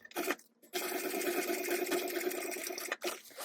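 A sewing machine top stitches along a fabric fold in a busy, steady whirring run of nearly three seconds. There is a short burst at the start and a brief pause near the end.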